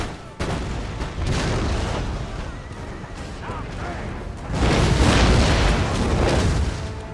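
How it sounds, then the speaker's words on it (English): Cannon artillery fires in the video game Empire: Total War during a battle, with heavy booms and rumbling blasts layered over continuous combat noise that swells loudest midway. "So these cannons are shooting into my cavalry."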